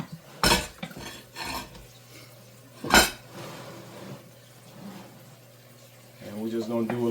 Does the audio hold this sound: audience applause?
no